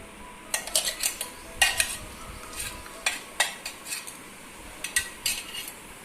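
Ground rice being stirred into boiling milk in a pot for mango phirni, a spoon scraping and clinking against the pan in repeated close strokes with brief pauses, no voices.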